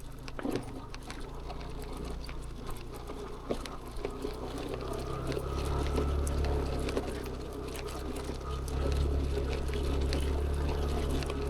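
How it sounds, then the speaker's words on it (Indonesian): A river at a campground near the Curug Batu Gede Cisuren waterfall gives a steady, rushing wash of water with a low rumble. It holds constant throughout, with a few faint scuffs and no voices. "Ini sungainya."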